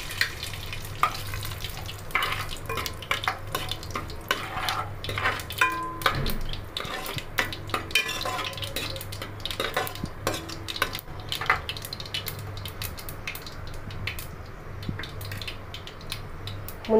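Cumin and mustard seeds sizzling and popping in hot oil for pappucharu, with a steady faint fry, scattered crackles and clinks of a utensil against the pan.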